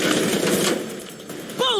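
Rapid gunfire bursts from a Batman video game, dense and loud throughout, with a voice shouting briefly near the end.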